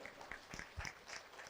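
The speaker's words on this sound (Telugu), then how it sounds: "అందరికి చప్పట్లు కొట్టండి ఒకసారి" Applause from a group of seminar attendees, a faint, steady patter of clapping heard at a distance.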